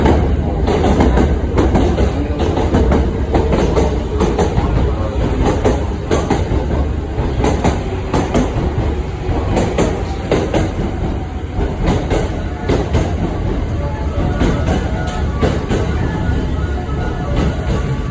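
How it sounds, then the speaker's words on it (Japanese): The combined Sunrise Seto and Sunrise Izumo sleeper express pulling into platform 11 at a Japanese station: a steady, loud rumble of railcars with rhythmic wheel clatter running the whole time, now and then a faint squeal of wheels. "11番乗り場到着の電車は寝台特急サンライズ瀬戸出"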